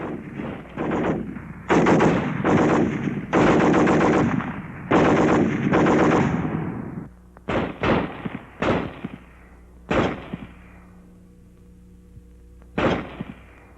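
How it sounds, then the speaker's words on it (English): A World War II Browning Automatic Rifle fires loud, close bursts of automatic fire, first long sustained strings and then short separate bursts and single shots with pauses between them, no talking. "The BAR, 80 shots a minute."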